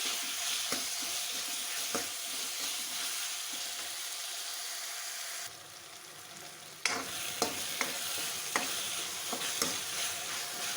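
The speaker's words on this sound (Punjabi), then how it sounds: "ਇਹਦੇ ਵਿੱਚ ਦੋ ਬਰੀਕ ਕੱਟ ਕੇ ਟਮਾਟਰ ਪਾ ਦਾਂਗੇ ਟਮਾਟਰਾਂ ਨੂੰ ਵੀ ਹੁਣ ਅਸੀਂ ਚੰਗੀ ਤਰ੍ਹਾਂ ਸੌਫਟ ਹੋਣ ਤੱਕ ਪਕਾਵਾਂਗੇ" Chopped tomatoes sizzle steadily in a pan of fried onions, with stirring scrapes and occasional clicks of a utensil against the pan; the sizzle quiets briefly midway, then continues near and loud with no voices.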